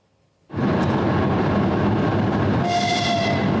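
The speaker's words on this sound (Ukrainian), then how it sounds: "на Івано-Франківський вокзал прибуває поїзд з Одеси" A train from Odesa pulls into Ivano-Frankivsk railway station. A loud, steady rumble starts suddenly and keeps going, and a tonal horn or whistle joins near the end.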